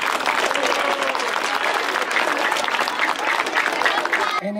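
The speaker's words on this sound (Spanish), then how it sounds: "Un aplauso para todos ustedes, por favor." An audience at a school event breaks into steady, crowded applause that fills the whole moment, close and continuous, with a voice briefly coming back in at the very end.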